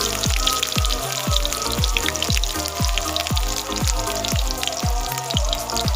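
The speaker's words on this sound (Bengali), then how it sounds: "লঙ্কা লাল হয়ে গেল, এই পেঁয়াজ দিলাম, অল্প পরিমাণে পেঁয়াজ।" Dried red chilies and onion frying in hot oil in a home kitchen, a steady close crackling sizzle running throughout with rhythmic low thumps, no talking.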